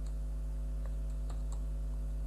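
A few light computer keyboard taps while code is being typed, scattered soft clicks sitting over a loud, steady electrical hum.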